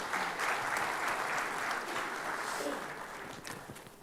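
Audience applause welcomes panel guests at the Print Summit 2020 panel discussion: dense, sustained clapping from a crowd that fills the whole stretch and eases slightly toward the end.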